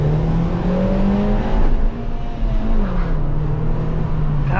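A Suzuki Swift Sport accelerates hard with both front tires squealing, a loud, steady engine drone that climbs and holds close by throughout, with no talking.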